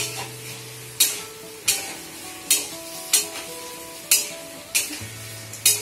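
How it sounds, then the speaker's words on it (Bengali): Ground masala for a hilsa fish curry sautés over a medium flame, a constant sizzle broken by regular scraping strokes of a spatula against the pan, about one stroke per second, close and clear. "মশলাটা দিয়ে আবারও মিডিয়াম ফ্লেমে একটু কষিয়ে নেবো"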